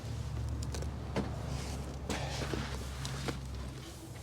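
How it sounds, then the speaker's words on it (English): Power tailgate on a Range Rover Sport closing, a steady low electric motor hum running throughout with a few faint clicks and knocks, close by and continuous. "Press the button, close this tailgate."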